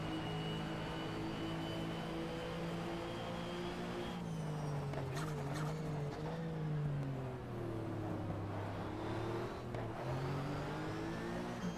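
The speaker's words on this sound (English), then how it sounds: "As always, rev matching on the downshift." A race car in the GTR 2 racing game at Laguna Seca, 2001 ALMS season, droning steadily at high revs, then downshifting with rev-matched blips and engine pitch rising and falling, heard alone without talk.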